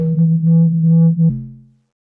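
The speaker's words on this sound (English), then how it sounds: "you could have distortion right on top like this" A ZynAddSubFX software synthesizer plays a steady, low, buzzy tone with distortion layered on top. It holds for just over a second, then shifts abruptly and fades away.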